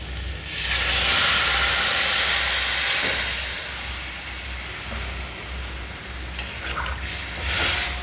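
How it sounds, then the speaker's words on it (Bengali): Coconut milk poured into a hot pan of cooking elephant foot yam, giving a loud, steady steaming hiss and sizzle that swells early, eases off, then rises again near the end, with no voices. "এবার দিয়ে দিচ্ছি নারকেলের দুধ।"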